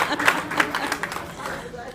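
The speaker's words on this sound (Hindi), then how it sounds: "वो ताली बजा रही, देखो ताली बजा रही" A small child claps at a lively outdoor welcome rally in a residential colony, a quick run of light, irregular claps heard close beneath a man's loud, excited speech.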